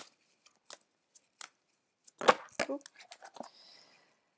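Angel cards shuffled by hand, giving a run of short papery slaps and riffles that gather into a denser burst midway, then a soft trailing flutter, all close and fairly quiet with no voice.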